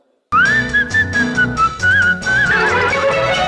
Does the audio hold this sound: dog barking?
no